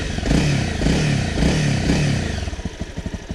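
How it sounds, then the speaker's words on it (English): A 250 cc Honda CRF 250 Rally motorcycle engine starts and settles into a steady, fairly loud idle, with a throaty rumble and a quick regular pulsing toward the end. "let's start the engine"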